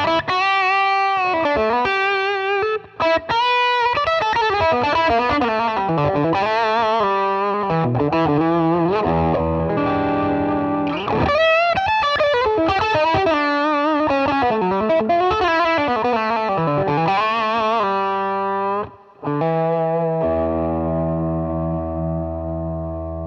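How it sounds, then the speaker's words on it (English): Relish Mary electric guitar played through overdrive on the bridge pickup with everything on full, a sustained distorted run of fast melodic lines and bends, loud and continuous, ending on a held ringing chord. "let's check out the overdrive, starting with the bridge pickup"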